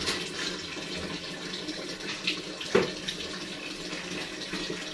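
Water runs steadily from a tap, a constant splashing stream with a brief knock partway through.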